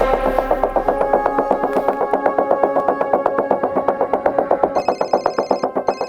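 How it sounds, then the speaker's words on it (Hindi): A telephone rings in a tense indoor crime-drama scene, a fast repeating electronic trill in steady bursts that carries on for several seconds, loud and close with no one answering, a brighter tone joining near the end. "कोई नहीं उठाएगा आज फोन।"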